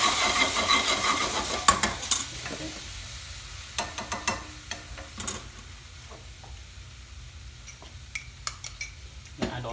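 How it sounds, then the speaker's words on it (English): Base gravy sizzles in a pan for a chicken pasanda while being stirred, a steady frying hiss punctuated by sharp clicks and scrapes of the spoon against the metal, close and continuous with no talking. "add some base gravy"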